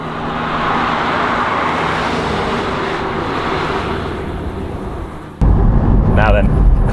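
A Porsche 718 Spyder driven hard on a bumpy tarmac road, its engine roaring loud and steady under heavy wind rush, then cutting abruptly to a louder, rougher close rumble near the end.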